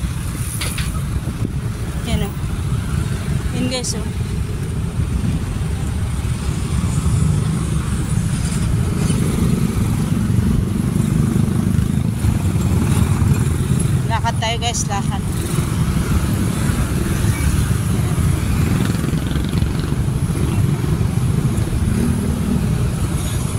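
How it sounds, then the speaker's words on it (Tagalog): Morning rush-hour traffic packed with motorcycles near the Pasig River, a steady loud rumble of idling and creeping engines with occasional horn-like bursts, while someone talks casually over it. "Traffic guys, grabe, ang daming motor."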